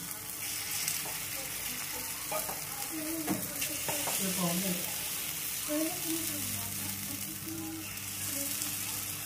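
Rava appe batter with leafy greens sizzling in an appe pan, a continuous soft frying hiss with scattered spoon taps and faint scraping, no voices over it.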